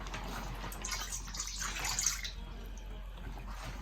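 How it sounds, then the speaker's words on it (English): Water is poured into a bowl at home for making play dough, a soft continuous splashing and trickling that swells in the middle of the clip before easing off, fairly quiet and close. "The first step is to pour water in the bowl."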